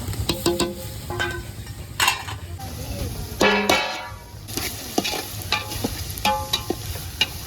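Garlic frying in oil on a village-style stove, a constant sizzle with clinks and scrapes of a stirring utensil, close up, with faint voices in the background.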